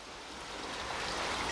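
Water draining out through the tap hole of a pre-pump pond pressure filter, a close, steady gushing splash that swells slightly over a short stretch, with no voices.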